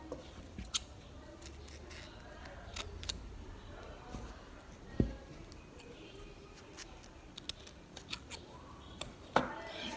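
Scissors snip off the extra cord ends on a macrame plant hanger, a series of scattered, close, crisp cuts and clicks with soft handling noise between them.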